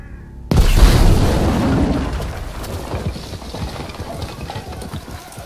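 A sudden loud boom of a cannon shot in the video game Battlefield V bursts in, followed by a rumbling, decaying aftermath with scattered clattering and thuds.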